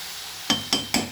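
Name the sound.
egg cracked into pan of frying vegetables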